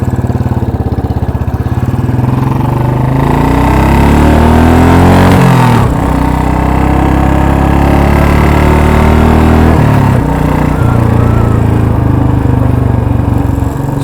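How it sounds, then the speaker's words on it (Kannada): A 2011 Royal Enfield Electra fitted with an aftermarket silencer thumps loudly and steadily while being ridden. The engine note shifts noticeably around the middle and again later, with no voices over it. "after market silencer ಹಾಕ್ಸ್ಕೊಂಡಿದ್ದ it has got more sound"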